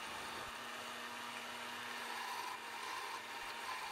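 A wooden tool handle being turned on a lathe, a faint steady whir of the spinning machine with a low hum and the soft scraping of the cutting tool on wood.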